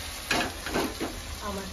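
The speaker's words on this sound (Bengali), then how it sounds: "তো এখন এই যে আমাদের রান্না হচ্ছে মাছ পাতুরি, তো পাতা ছাড়া। মা রান্না করছে এখন।" Stirring and sizzling as a mother cooks fish paturi without banana leaves in a pan, with a few scraping stir strokes over a steady low fry.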